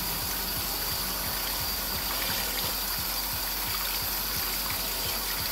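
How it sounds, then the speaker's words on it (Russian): Dirty cleaning fluid gushes out of a car's EGR system in a continuous wet stream, over a steady low pulsing of about three beats per second, close and fairly loud throughout. "Все, грязь течет."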